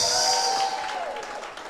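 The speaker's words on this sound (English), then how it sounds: "Y'all give Puck another round of applause." Brief audience applause at a 5th anniversary night show for guest entertainers, a short burst of clapping mixed with a lingering tonal sound that fades quickly.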